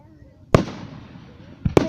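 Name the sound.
fireworks exploding over a river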